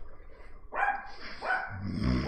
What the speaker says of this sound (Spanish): yo sé por qué está ladrando